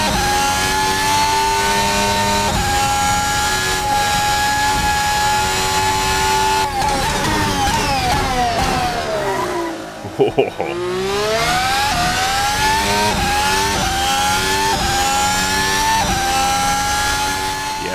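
A fast car on Northern Ireland public roads revs hard and climbs through the gears, with a brief dip as it shifts before pulling strongly again; the engine sounds close and loud, and someone briefly exclaims.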